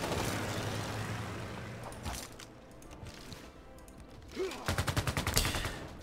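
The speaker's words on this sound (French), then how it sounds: "À coup de mitraillette." Rapid bursts of machine gun fire in the strategy game Civilization 6, a dense rattling volley near the end following rumbling battle noise, with no talk over it.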